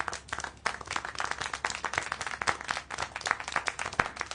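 Hand clapping in the video game Syberia: The World Before, a steady patter of many quick claps close up, fairly quiet, with no speech over it.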